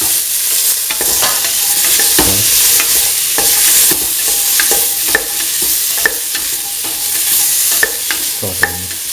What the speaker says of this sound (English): saute and mix the winter melon pieces with the tomatoes.